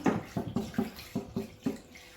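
Water poured in short bursts into a container of squid marinade with pomegranate juice, about seven quick splashing glugs in an uneven rhythm, close and clear with no talking.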